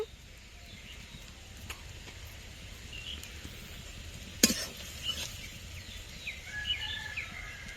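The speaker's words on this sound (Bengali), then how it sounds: "আদা বাটা আদা ও রসুন দিয়ে কিছুক্ষণ নেড়ে নেব" Ginger and garlic paste with turmeric stirred in a pan for a village-style prawn curry, a low steady sizzle with soft scraping strokes and one sharp clink, birds chirping faintly in the background.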